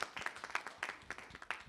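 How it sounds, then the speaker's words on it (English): A small audience at a university student government meeting gives a short, light round of clapping, with scattered individual claps heard close and fairly quiet. "just give yourself a round of applause real quick"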